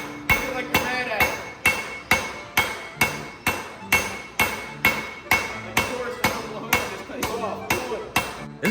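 A hot rail spike is hammered on an anvil at a forge, the hammer striking in a fast, regular series of about twenty sharp metallic ringing blows, loud and close.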